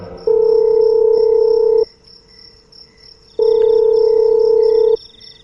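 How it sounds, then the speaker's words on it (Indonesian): Telephone ringback tone while calling someone, with two long steady electronic tones, each about one and a half seconds, separated by a pause, over a faint background hum and high whine. "Seketika aku telepon Gani, menanyakan kapan ia pulang."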